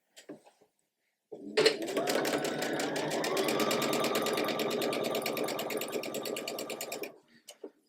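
Sewing machine joining two quilt block pieces for a Ribbon Star sampler block with a quarter-inch seam, one continuous run of about six seconds with a rapid rhythmic needle clatter, close and clear.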